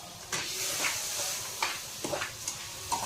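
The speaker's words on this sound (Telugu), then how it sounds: "ఇప్పుడు మనం దీంట్లో కొద్దిగా పాలు వేసుకుంటూ కలుపుకోవాలి ఫ్రెండ్స్" A rava laddu mixture of semolina being stirred as milk is added: soft scraping strokes of a spoon come at irregular intervals over a faint, steady hiss, close and fairly quiet.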